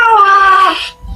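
A cat lets out one loud, drawn-out meow close by, falling slightly in pitch and fading after under a second.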